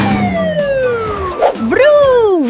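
Cartoon emergency vehicle sirens, police car and fire truck, wail in falling and rising sweeps, loud and close over busy background music in a kids' show.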